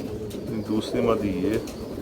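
A female pigeon coos nearby in a run of low, rolling throaty notes, with a voice talking over the cooing.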